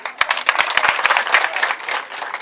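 An audience bursts into steady applause at a school key-handover ceremony held by an education NGO, with dense clapping filling the moment and a few sharper claps standing out near the start.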